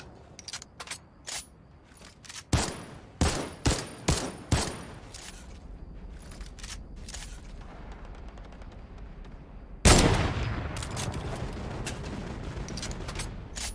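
Gunfire in a shooter video game during a long-range damage challenge: several short, sharp bursts of shots separated by pauses, then a sudden, louder sustained burst of firing that continues to the end.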